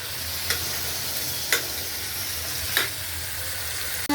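Food fries in a pan with a steady, close sizzling hiss, punctuated by three brief taps of a utensil against the pan.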